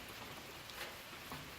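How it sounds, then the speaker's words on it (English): Steady rain falls outside, a dense even hiss with no voices, holding at one level for the whole stretch. "It's raining."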